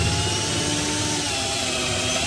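A Bosch GSB120 12V cordless drill driver set to low speed removes a screw, making a steady, loud, close motor whine that runs without a break.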